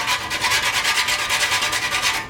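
Fresh whole nutmeg rubbed against a grater, heard as a close, even rasping scrape that repeats in a fast regular rhythm, with no talk.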